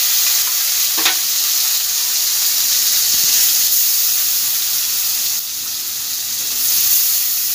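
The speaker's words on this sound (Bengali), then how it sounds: "ওই তেলের মধ্যেই আমি দুটো পেঁয়াজকে পেস্ট করে রেখে দিয়েছিলাম, এই পেঁয়াজটা দিয়ে দিলাম।" Onion paste fries in hot oil left from frying katla fish, giving a loud, continuous hiss and sizzle close up with a few soft stirring touches and no talking.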